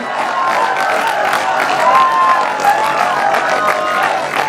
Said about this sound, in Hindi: तालियां रुकनी नहीं चाहिए भाई।